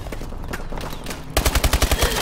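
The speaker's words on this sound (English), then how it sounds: "he just kept shooting" Gunfire rings out in Call of Duty: Advanced Warfare during a one-on-one match. After a few scattered shots, a loud rapid automatic burst of about nine evenly spaced rounds follows, close and punchy.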